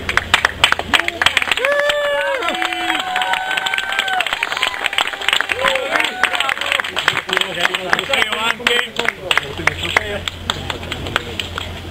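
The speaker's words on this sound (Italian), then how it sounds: "Oh, un applauso." Applause at a sailing trophy ceremony of the Lega Navale Mola di Bari, 2015 Trofeo Gianfri: a crowd claps steadily, the claps growing denser and sharper toward the end, with voices and chatter mixed throughout.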